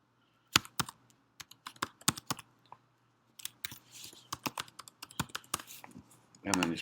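Password being typed on a computer keyboard in a quiet room: a run of sharp, close key clicks at an uneven pace, with a short pause in the middle, a denser burst of keystrokes afterward and a rustle at the end.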